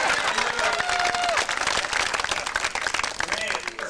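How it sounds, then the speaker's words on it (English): A crowd applauds and cheers at a retirement reunion in Scotland, steady clapping over a loud wash of voices and whoops, with a voice speaking over it. "Right about here, the crowd goes wild."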